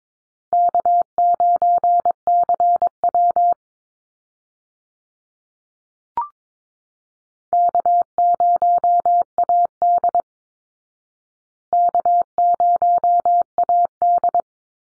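Morse code call signs are sent at 22 words per minute as a clean single-pitch tone in rapid dot-dash bursts, three groups separated by silent gaps, with one brief click in between.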